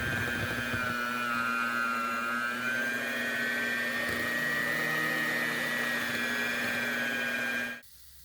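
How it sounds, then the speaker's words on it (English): A household electric mixer on low whips goat cheese with olive oil, a loud, steady whirring whine that holds for several seconds and then cuts off abruptly. "Just turn your household mixer on low as not to splash everything until it starts getting creamy."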